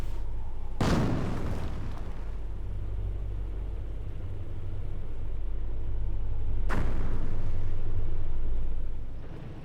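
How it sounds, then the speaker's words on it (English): Incendiary mortar fire in Company of Heroes sounds as two heavy booming impacts several seconds apart, each a loud close blast fading into a low rumbling battlefield din. "great incendiary mortar there. Direct hits the Bren squad"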